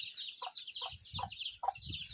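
Chickens cluck in short repeated bursts over a steady background of birdsong, with low scuffling noises between the calls.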